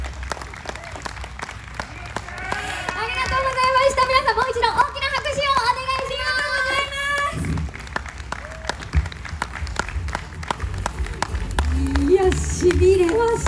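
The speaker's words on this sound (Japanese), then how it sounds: "皆さんもう一度大きな拍手をお願いします" Audience applause fills a concert hall after a saxophone performance, a steady dense wash of clapping under musical tones and voices, loud and close throughout.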